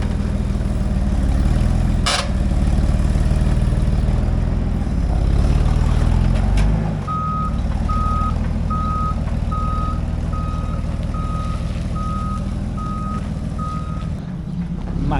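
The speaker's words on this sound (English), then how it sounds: "so making it work with the forklift" Forklift moving heavy robot feeders over uneven ground, its engine rumbling steadily close by while a regular reversing beep repeats for several seconds in the second half.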